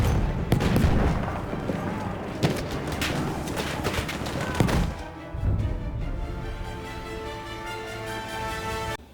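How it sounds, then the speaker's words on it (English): In a video game match, a thrown grenade detonates among sharp gunfire cracks and booms, followed by a rumbling tail that fades under a steady ringing tone. "Throwing a grenade!"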